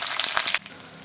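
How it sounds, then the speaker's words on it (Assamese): Onions frying in hot oil in a kadai, a loud close crackling sizzle that drops to a softer steady hiss partway through. "তাৰপিছত পিঁয়াজ দি দিছে এতিয়া ধুনীয়াকৈ পিঁয়াজখিনি অলপমান ভাজি লওক"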